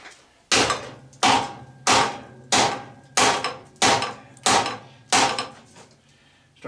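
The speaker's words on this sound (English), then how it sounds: "When all else fails, hammer." Hammer blows on an old air compressor being scrapped for brass and cast iron, eight sharp metallic strikes at a steady rhythm of about one per second, loud and close, each ringing briefly.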